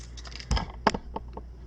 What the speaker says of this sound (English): And then just cut it out with your scissors